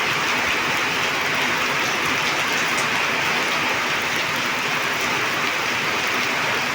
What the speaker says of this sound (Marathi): खूप असा पाऊस झालेला आहे